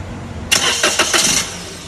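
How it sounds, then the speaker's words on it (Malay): An Axia car engine, which has a loud, noisy engine fault, cranks briefly, then catches and settles into a steady idle, close and fairly loud. "So kita start engine, tengok ada bunyi lagi ke tak ada."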